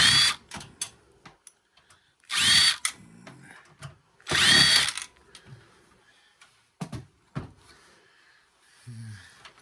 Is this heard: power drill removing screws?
yes